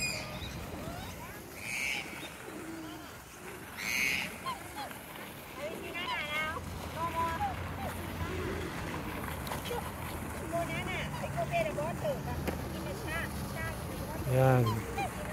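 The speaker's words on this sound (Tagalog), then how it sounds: "Kita nyo yung mga black swan na malalaki." Large black swans calling in an open park, with honking cries at a middle distance mixed with outdoor hubbub, while a voice talks over them.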